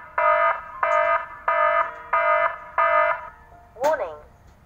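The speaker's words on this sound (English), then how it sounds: "Testing on, water level warns alarm" A reservoir water level warning alarm sounds five evenly spaced electronic beeping tones, each about half a second long, followed by a short rising chirp.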